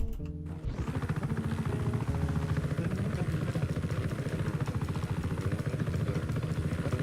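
Helicopter in the video game Just Cause 3, a steady rapid rotor thumping with a continuous engine drone that stays even and close throughout.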